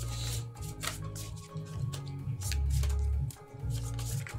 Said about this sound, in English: Why are we shuffling two different piles of the same cards?